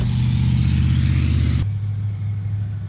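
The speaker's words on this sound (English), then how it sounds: "That was a very loud, annoying truck" A loud truck drives past close by, its heavy engine droning and rumbling strongly before the roar cuts off and a lower idle-like hum fades away.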